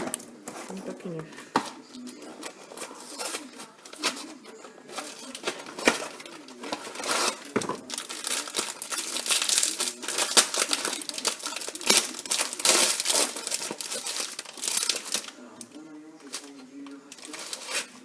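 New baking paper crinkles and rustles in a home kitchen while homemade lasagna is assembled, a busy close crackling that runs throughout with irregular crisp bursts, while a person talks over it.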